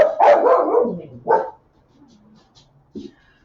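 A dog barks close and loud in a short volley of two or three barks, then follows with quieter whimpers and a soft final yip.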